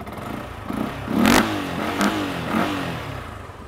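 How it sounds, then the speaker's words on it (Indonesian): Idling engine of a 2016 motorcycle in Movistar colours, offered for sale as used, runs steadily with a few short throttle blips rising and falling, close and moderately loud, no talk. "Suara mesin halus ya."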